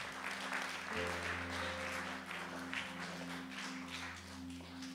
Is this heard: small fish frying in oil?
no